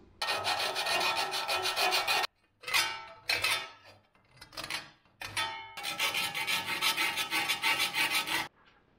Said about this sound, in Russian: Сейчас подработаю напильником все это дело, выровняю